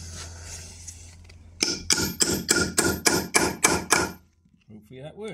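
A hammer strikes a tool laid on top while making a drawstring bag for a Dutch oven, about nine sharp, evenly spaced blows close by, then a brief murmur of voice at the end.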